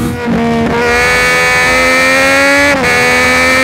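A 675 motorcycle engine holds a loud, steady, close-miked drone while riding on a flat road, its pitch rising gently then dipping briefly near the end as the throttle eases.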